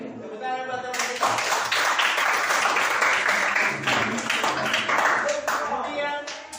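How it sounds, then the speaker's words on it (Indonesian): A classroom of classmates clapping together, dense steady applause that fills most of the clip after a brief spoken lead-in, close and fairly loud. "Tepuk tangan buat teman-teman."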